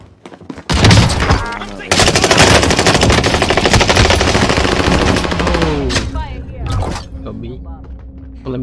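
Shotgun and rapid automatic gunfire in an online multiplayer shooter game, loud and sustained in a dense barrage lasting several seconds, with voices talking around it.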